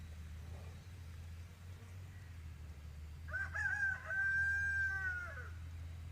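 A rooster crows once, a long drawn-out call rising and holding before trailing off, heard fairly close over a low steady background hum.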